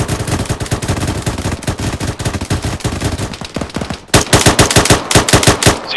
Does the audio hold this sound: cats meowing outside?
no